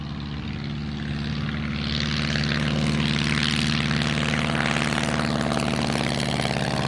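Turbo Timber Evolution light propeller aircraft coming in to land, its steady engine drone and propeller hum building from a moderate level to a loud, sustained roar as it nears, with no talk.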